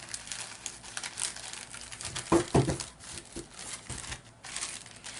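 A plastic envelope baggie crinkles close by as tags and hanging charms are sorted into it, with continuous rustling and a few louder crackling bursts.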